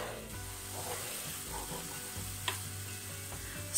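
Steady, quiet sizzling of fish and mushrooms frying in a pan, a soft continuous crackle with a faint low hum underneath and no talking.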